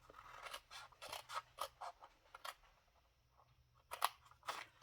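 Scissors snipping through material for a triangle box, a quiet series of crisp individual cuts in an uneven rhythm, with a brief pause before a final cluster of snips.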